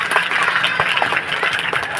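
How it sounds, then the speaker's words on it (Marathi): A crowd applauds for children dressed in costume at a children's literary festival, a steady, dense patter of many hands clapping that carries through the whole stretch without a break. "खरं एकदा टाळ्या होऊन जाऊ द्या बरं आपल्या लहान बच्चांसाठी"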